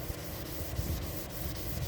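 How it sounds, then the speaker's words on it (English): A Scotch-Brite pad rubs the paint on a 1954 Chevy truck, making a continuous gritty scrubbing sound close by with regular back-and-forth strokes. "Don't want to rub too hard, you can probably go right through the paint."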